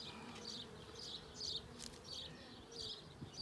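Honeybees buzz steadily around an open package hive during an eight-week inspection, a close, low drone with repeated louder swells as individual bees pass near; no talking.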